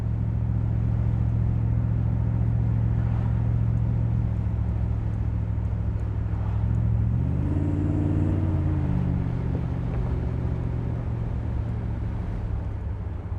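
A loud, deep V8 engine of a 1971 Chevrolet Corvette rumbles close by, its pitch climbing and then shifting as the car pulls away and runs through the gears, with no voices.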